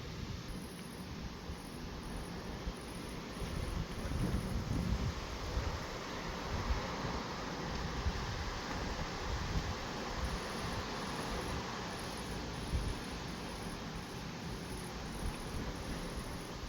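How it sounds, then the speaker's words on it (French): Wind rising as a thunderstorm's arcus cloud arrives over Gironde, a constant gusty rush with buffeting rumble on the microphone and faint high insect chirping in the background. "Oh, le vent se lève."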